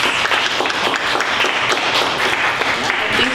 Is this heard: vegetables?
no